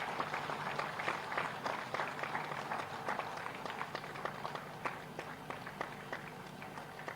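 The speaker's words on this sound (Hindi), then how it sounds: "तालियां बजती रहें तो कितना अच्छा लगे" An audience claps at a teachers' award ceremony, a faint, steady patter of many hands applauding in a large room, continuing evenly throughout.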